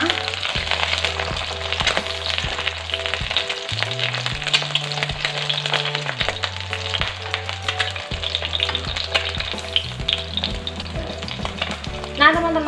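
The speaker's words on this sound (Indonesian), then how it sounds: "Sekarang mau aku goreng sampai telurnya matang." A sunny-side-up egg fries in hot oil, giving a continuous close sizzle and crackle with occasional stirring scrapes, over faint background music.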